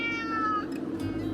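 Cat meowing inside a camper van, a drawn-out tonal meow with rising and falling pitch followed by softer vocal fragments, close and clear against a steady low hum.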